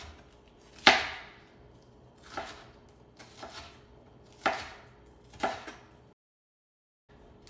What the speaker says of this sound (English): I'm gonna stack them, and I'm gonna just make some very thin slices